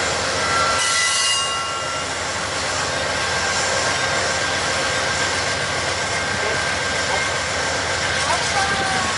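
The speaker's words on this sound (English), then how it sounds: "Here they are departing Amtrak 79." Amtrak train 79, a passenger train, pulls out of the Selma station with a steady loud rumble of wheels on rail, a faint high squeal and a broad roar filling the scene.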